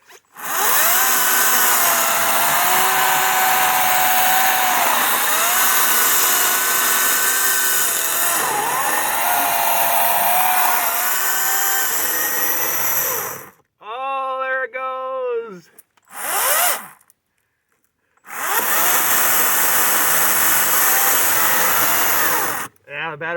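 A battery-powered Kobalt 14-inch electric chainsaw cuts up a fallen tree into stove-length pieces, whining loudly for long stretches. It pauses briefly while a voice speaks, then resumes its high buzzing cut.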